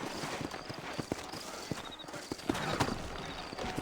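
Horse hooves clip-clop at a steady trotting rhythm in the Red Dead Redemption video game, fairly close and moderately loud over a soft background wash, with no talking.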